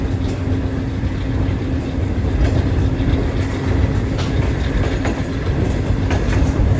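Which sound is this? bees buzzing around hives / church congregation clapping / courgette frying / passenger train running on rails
passenger train running on rails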